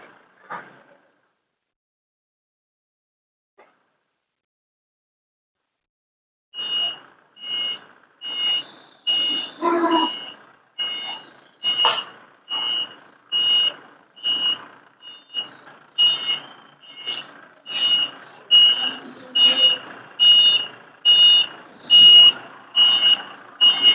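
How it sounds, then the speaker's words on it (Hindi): A forklift unloading a truck sounds loud, regular reversing beeps that keep going for many seconds, close by, with occasional clanks and knocks of the load among them. "तो फोर्कलिफ्ट से सामान उतार रहे हैं।"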